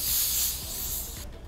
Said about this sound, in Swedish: Sprayar vi först värmeskydd.